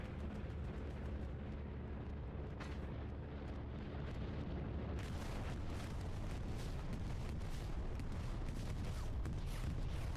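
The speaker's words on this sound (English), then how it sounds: "2 bomb runs going off." Bombing run explosions going off in a multiplayer shooter match, a dense continuous roar of booms and rumbling blasts that swells and thickens partway through, loud and sustained with no break.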